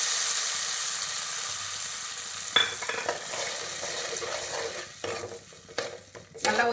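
Tamarind water with brinjal for Chidambaram kosthu bubbling in a pan, a steady soft sizzle and simmer with occasional stirring scrapes and clinks, close and moderately quiet.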